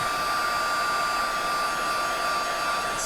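An embossing heat gun blows hot air over a silver-embossed ornament card, a steady loud whooshing roar with a thin constant whine running unbroken from start to finish, no voices.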